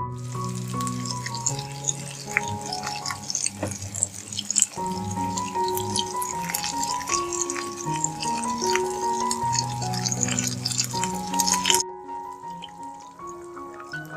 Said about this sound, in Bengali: এইভাবে করে আস্তে আস্তে আমি ফিশগুলোকে ফ্রাই করে নেব